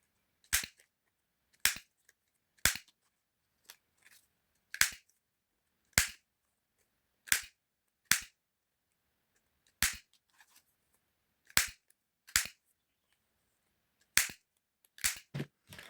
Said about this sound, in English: And I'm just going to round the corners.